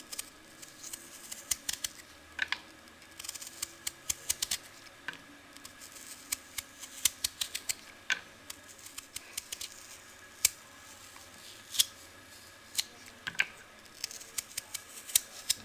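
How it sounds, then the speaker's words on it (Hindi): Knife cutting through raw potato into thin slices, a series of short, crisp clicks and snips at an uneven pace, close and fairly quiet, with no voices. "आप इसको छुरी की मदद से भी आप कतलियाँ काट सकते हैं।"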